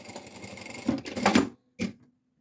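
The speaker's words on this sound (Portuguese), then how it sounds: "Vamos dobrar sobre essa linha e vamos fazer aqui um pesponto." A sewing machine topstitches a fabric passport holder: a short run of rapid mechanical stitching, a pause, then a brief final burst, close and alone.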